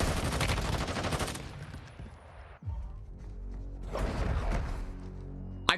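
The RAM assault rifle fires in Call of Duty Warzone Mobile, with two dense, loud bursts of rapid automatic gunfire separated by a short lull, heavy booming low end under the crack of each shot.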